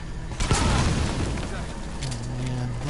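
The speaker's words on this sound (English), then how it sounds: "There was an explosion." A deep boom from an explosion in Metal Gear Solid V rumbles out and fades, followed by a lower droning tone, fairly loud and close.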